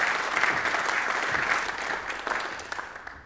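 Audience applause at an energy briefing event welcoming Professor Thomas Schmidt, a dense, even round of clapping that thins toward the end.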